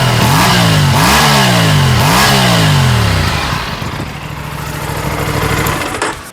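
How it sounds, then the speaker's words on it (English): An Aprilia RS 457 motorcycle engine, loud and close, revs up three times in rising sweeps that drop back, then settles into a rough, steady idle. "Let's listen to how the bike actually sounds when it's screaming."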